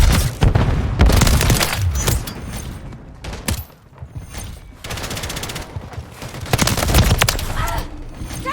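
Dense gunfire in the video game Modern Warfare 3, rapid automatic bursts and heavy booms overlapping continuously at close range, with game announcer voice callouts.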